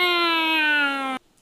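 A cat gives a single loud, close meow, a sustained tonal cry lasting just over a second before cutting off into quiet.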